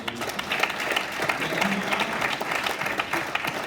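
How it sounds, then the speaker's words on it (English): Crowd applause at a Las Vegas gathering, a dense, continuous clapping from many people filling the whole stretch at an even level. "Let's get a little clap for that Evo out there."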